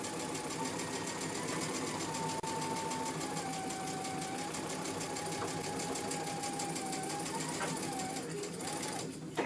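A sewing machine runs steadily and close, stitching along the edge of a pleated fabric face mask, its fast even whir continuing without a break for the whole stretch.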